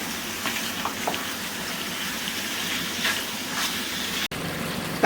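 Curd-marinated chicken sautéing in oil: a steady, soft sizzle with gentle hissing bursts and occasional stirring scrapes, close by, with a sharp click near the end.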